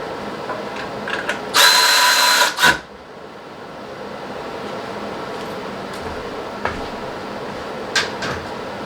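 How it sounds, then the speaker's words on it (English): A power drill whines in one loud burst of about a second as it bores a hole into a car radiator support during an intercooler install on an MK7 GTI, followed by a short clunk and quiet shop noise. "What you have to do is drill your own holes into the radiator support"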